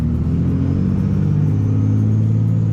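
A manual car pulls away in first gear as the clutch comes out under light throttle, its engine a steady, loud low rumble with harmonics rising slightly in pitch across a few seconds, close and continuous with no talking.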